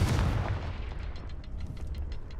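A Confringo blast spell explodes in Hogwarts Legacy, a heavy booming burst at the start that rolls off into a rumbling tail with faint crackling debris, with no voices.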